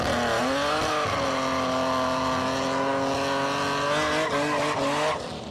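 A Datsun 240Z and a Hakosuka Skyline street drag race in Nagoya, engines screaming loud and close as revs climb steadily through the gears, with a brief tire squeal near the start and a fade at the end.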